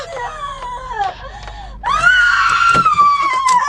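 A woman screams in a long, wavering wail that breaks off briefly and then resumes louder and higher, close and intense, inside a house in a dramatized horror story about an aswang.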